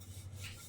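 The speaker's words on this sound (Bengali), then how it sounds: "আমি রুটি বেলে নেব।" A wooden rolling pin rolls out roti dough on a board, giving a soft, faint, continuous rubbing and rasping sweep that lasts under a second, with no talk.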